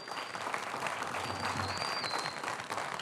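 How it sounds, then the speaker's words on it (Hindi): A studio audience at a cricket-themed television show applauds in a dense, steady wash of clapping that holds evenly for the whole stretch. "आप लोग भी हमारे साथ हैं, तालियां बजाकर बताएं"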